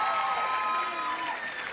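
Studio audience applauding on a French television variety show, a steady wash of clapping that fills the whole moment at an even level, with no talk over it.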